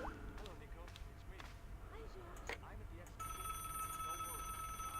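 A telephone rings in the point-and-click adventure game Broken Sword: Director's Cut, its steady electronic tone entering partway through over quiet game ambience and sharp clicks.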